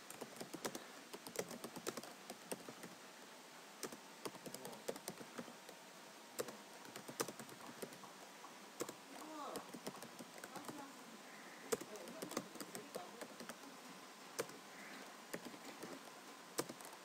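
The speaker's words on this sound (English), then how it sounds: "So now I'm going to enter a few text." Steady typing on a computer keyboard fills the stretch as text is entered into a Notepad document, a close run of light key clicks with occasional louder taps and faint speech in the background.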